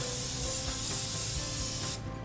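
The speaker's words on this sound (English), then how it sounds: "I'm gonna use a spray today." Cooking oil spray hisses steadily from a can onto a grill pan heating up for balsamic-marinated skirt steak, a close continuous spray that stops just before the end.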